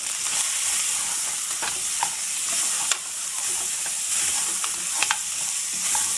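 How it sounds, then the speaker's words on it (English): Ginger garlic paste, onions and paya frying in a pan over a low flame give a steady, close sizzling hiss with scattered crackles and spoon clicks throughout, no talking. "Let's fry this ginger garlic, onions and paya on a sim flame."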